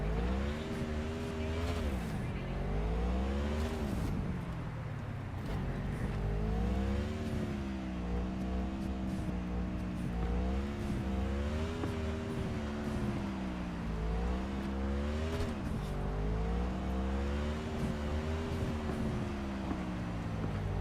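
A car engine in Cyberpunk 2077 is revved over and over in first person as the throttle is tapped, its pitch rising and falling in waves over a steady drone.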